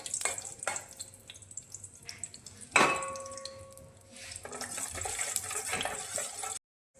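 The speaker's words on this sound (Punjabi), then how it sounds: "ਆਪਾਂ ਬਦਾਮ ਪਾ ਕੇ ਪਹਿਲਾਂ ਭੁੰਨ ਲੈਣੇ ਆ" Almonds roast in desi ghee in a pan with a quiet sizzle, accompanied by metallic clinks and a clang of a spoon stirring against the pan, fairly soft and close, with no voices.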